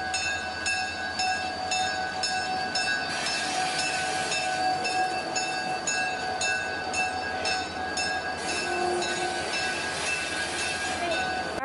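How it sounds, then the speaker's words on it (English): A train at the North Carolina Transportation Museum rumbles steadily with a continuous mechanical drone and high whining tones, loud and close, with no one speaking. "there's the train"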